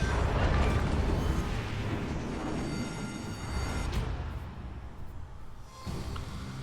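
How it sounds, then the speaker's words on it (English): Naval gun salvo in World of Warships Legends, a dense, loud rolling boom of heavy cannon fire that fills the clip, followed by a fading rumble and a second thud near the end. "Finish him off with this last salvo."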